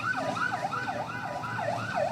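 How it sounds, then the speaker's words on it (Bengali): An ambulance siren wails in a steady rising and falling cycle, about six sweeps in two seconds, heard from within a moving convehicle procession along a road, fairly clear over a low traffic rumble. "আমরা সেই অ্যাম্বুলেন্স আপনারা দেখতে পাচ্ছেন"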